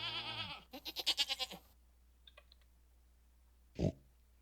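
Two goats bleat in the Stardew Valley video game: a wavering bleat at the start, then a quick chattering run of pulsed bleats, then a short grunt-like animal sound near the end, with no talk over them.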